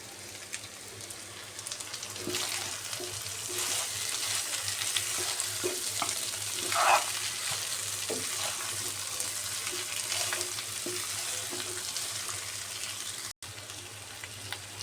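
Broiler chicken meat stir-fried in a pan while cooking down into a spiced bhuna, giving a steady close sizzle with scattered scrapes and clicks of stirring throughout, no voices.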